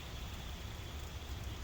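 Rain falls steadily, a continuous even patter and hiss of drops on surfaces, moderately quiet and uninterrupted, with no speech.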